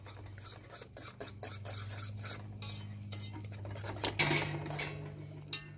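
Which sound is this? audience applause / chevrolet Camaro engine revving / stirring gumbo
stirring gumbo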